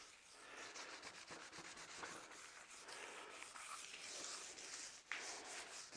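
The epoxy-coated surface of a live edge slab table is sanded with a continuous, even hiss that has a light rhythmic scratch, close up and fairly quiet, with no voices.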